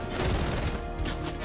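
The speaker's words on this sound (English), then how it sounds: "Somebody shooting at you, David, with a charged SMG" Charged SMG gunfire in Fortnite, a dense continuous rattle of rapid shots filling the whole moment, loud and close without any talking.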